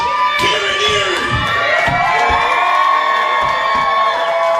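A wrestling crowd in Erie cheers loudly and continuously, with shouts, whoops and high-pitched voices rising over a dense roar of the audience.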